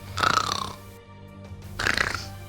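A cartoon character snoring in Sleeping Beauty's castle: two drawn-out, rasping snores separated by a quiet pause, with a faint steady low hum underneath; the snores sound like a voice imitating snoring.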